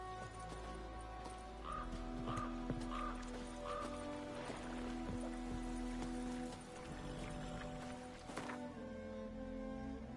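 A horse in The Witcher 3 trots with rhythmic hoof clops and a whinny amid in-game music, moderately loud throughout.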